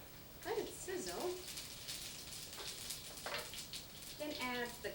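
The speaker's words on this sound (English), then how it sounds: "Let it sizzle." Cumin seeds sizzle in hot oil in a pan, a faint steady crackling hiss that runs throughout beneath a person speaking.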